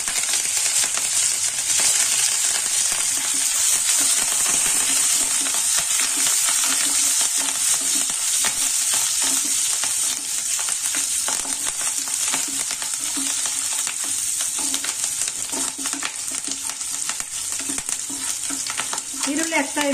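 Green chilies and curry leaves sizzling in hot oil in a pan for cabbage palya, a loud, steady, close crackling hiss with faint stirring scrapes throughout.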